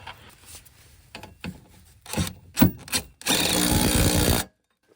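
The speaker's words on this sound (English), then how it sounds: "I'm going to put a bolt into the rivsert. The idea is to pull on that rivsert so it deforms on the inside and permanently installs" A bolt being driven into a rivet nut while installing drop steps on a 2026 Ram 2500, several short ratcheting and tool bursts followed by a sustained loud power-tool whir that cuts off abruptly.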